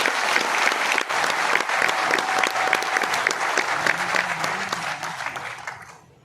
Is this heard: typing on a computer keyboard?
no